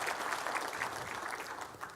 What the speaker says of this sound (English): all right, clap.